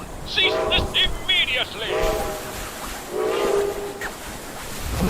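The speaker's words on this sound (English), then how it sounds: "That's a train. An honest-to-God train." A steam train whistle and low rumble in the video game Fallout 76 sound from a distance, with long wavering whistle blasts behind a character's shouted lines over a steady background of game ambience.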